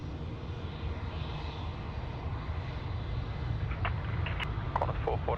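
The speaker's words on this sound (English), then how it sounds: "Just 320 just rolling off here in front of us" An Airbus A320 airliner rolls out after landing at Sydney Airport, its engines roaring steadily and loudly nearby, with faint higher clicks and chirps near the end.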